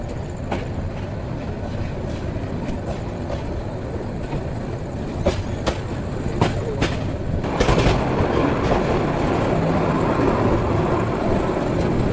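A rumbling, rattling night passenger train, the Upaban Express, passes through Tongi railway junction station, with sharp clicks of wheels over track joints, the clatter swelling louder in the second half.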